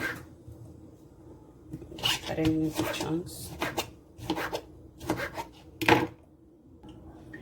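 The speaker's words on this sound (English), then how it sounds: "I'm just cutting them into chunks." Sharp knife strokes chop tomatoes and bell pepper into chunks on a board, coming in irregular bursts of quick cuts with short pauses between.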